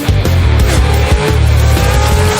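Eight-hundred-horsepower pro 4x4 trucks race at Crandon International Raceway: loud, close engines roar in rapid repeating surges with bursts of tire squeal, alone without talk.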